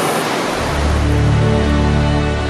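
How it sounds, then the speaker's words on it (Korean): A waterfall in the lava-strewn volcanic country around Villarrica volcano in Chile sends up a loud, steady rushing roar of falling water. The wash of sound stays close and unbroken throughout, with no voices over it. "이번엔 폭포가 장관을 연출합니다"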